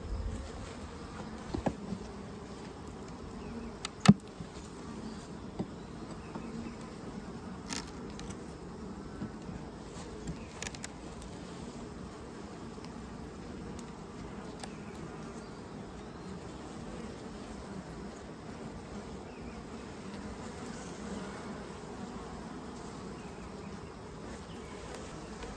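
A low, steady hum of many honey bees buzzing close by at an open horizontal hive continues throughout, with occasional faint clicks and knocks.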